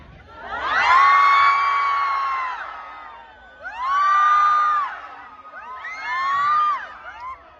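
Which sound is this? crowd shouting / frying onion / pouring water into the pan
crowd shouting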